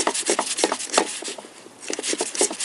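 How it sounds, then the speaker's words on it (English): A metal bar rotating a bolt on the intake manifold of a Toyota VVT-i engine during disassembly, giving steady close-up rasping and grinding scrapes in repeated bursts, with no talking. "I insert that bar in there, and I rotate this"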